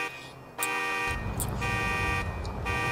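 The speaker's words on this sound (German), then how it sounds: "Die geschissene Alarmanlage." A car alarm in the video game GTA IV, sounding loud and close with repeating tonal wails and honks that switch pattern in bursts, alongside rumbling engine noise.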